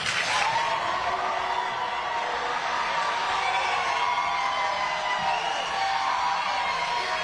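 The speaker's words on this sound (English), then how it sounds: "This is a rowdy crowd for a congressional debate" A rowdy crowd cheers and claps at a congressional debate, a steady wash of applause and scattered whoops that holds at an even level for several seconds.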